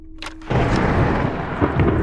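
Thunder from a thunderstorm breaks out abruptly after a short quiet moment and becomes a loud, heavy rolling rumble with steady rain, carrying on through to the end.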